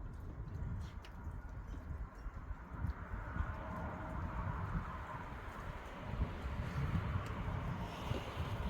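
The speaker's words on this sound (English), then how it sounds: "Oh, the wind's kicking up, the wind's kicking up." Wind gusting outdoors, a steady low rumble and buffeting across the microphone with light rustling, fairly faint and continuous.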